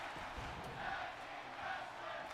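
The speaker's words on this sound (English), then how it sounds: "Tag team wrestling chant from the crowd." Wrestling crowd in an arena chanting a rhythmic tag team chant, a steady roar of many voices with two swelling chant phrases rising over the noise.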